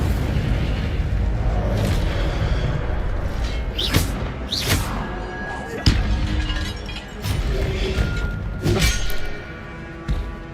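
Fire spell cast repeatedly in Hogwarts Legacy, several sharp bursts and thuds scattered over a steady game ambience with background music, punchy and close.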